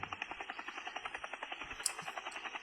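A steady, rapid rotor chop pulses evenly throughout, a helicopter at moderate distance with a brief higher-pitched blip near the middle.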